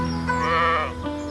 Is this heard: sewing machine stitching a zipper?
no